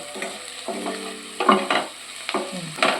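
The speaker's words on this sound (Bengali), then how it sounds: "এই পেঁয়াজ আর রসুনটা একটু ভাজবো" Chopped onion and garlic fry with a pinch of salt for palak paneer, crackling softly while a spatula scrapes and stirs through them in several uneven strokes.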